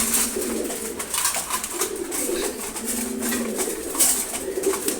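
Several racing pigeons coo continuously in a low, overlapping murmur while feeding, with light pecking and rustling noises throughout.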